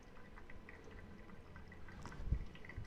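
Hot water pours and trickles onto pour-over coffee grounds, a faint, thin stream with soft drips that swells briefly near the end, quiet and close with no voices.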